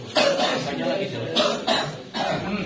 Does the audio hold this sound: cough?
yes